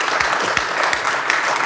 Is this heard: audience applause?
yes